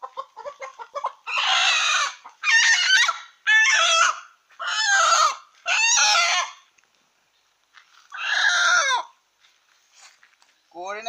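Chickens being caught and held for vaccination squawk and cluck loudly in several close, agitated bursts with short pauses between them, recorded up close.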